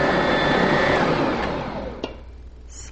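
An electric mixer creams soft butter and sugar, a loud continuous motor whir that winds down and fades near the end with a small clunk, close by and without speech.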